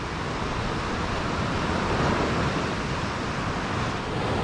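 Ocean surf and wind on New Smyrna Beach make a loud, unbroken wash of broadband noise. Wind buffets the microphone steadily, with no distinct breaks between waves.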